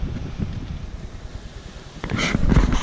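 Wind at an outdoor fishing spot buffeting the microphone with low rumbling gusts that build stronger toward the end, with no talk.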